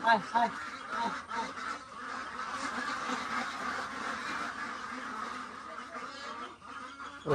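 A crowd of ducks quacks continuously nearby around water and food set out for them, their calls overlapping in a busy chorus, with a person's voice now and then.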